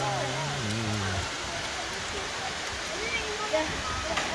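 A waterfall gives a steady, broad rushing hiss throughout. Someone talks over it at the start.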